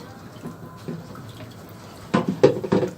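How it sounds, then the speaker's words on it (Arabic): Water is poured onto half a kilo of rice in a pot for sayadieh-style rice served with fried fish. A quiet start gives way to several short, close splashing bursts near the end. "طبعا انت بتحطي الميه على قد مقدار الرز اللي عندك"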